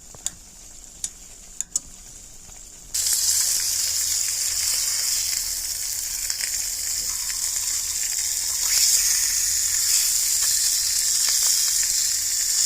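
Roast beef in gravy, cooked outdoors, bursts into a loud, bubbling sizzle after a few quiet seconds of light clicks, then keeps up a strong, steady hiss and spatter.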